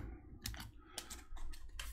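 Playing cards shuffled by hand during a Marvel Champions card game at a table, a series of short crisp riffling bursts in quick succession, close and fairly quiet.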